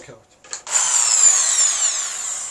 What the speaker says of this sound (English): So I'm going to drill it now and see how it's going to